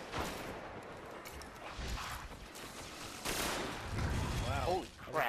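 Bursts of gunfire from a new rifle in the sci-fi shooter Destiny crack and echo amid layered battle noise and whooshing effects, loud and continuous with a few sharper shots.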